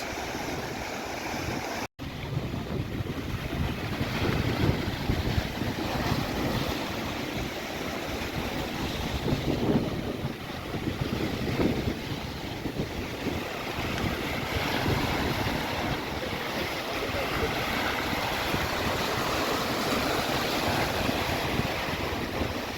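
Boat of the Environment Agency on open water at an oil spill near Gibraltar, with steady broadband wash of waves and engine or hull noise mixed with wind buffeting the microphone, continuous and fairly loud throughout without speech.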